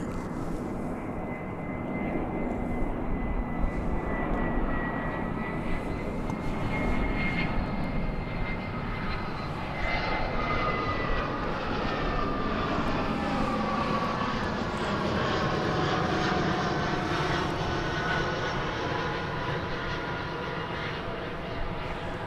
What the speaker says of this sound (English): This will be an Airbus of the A319 variety.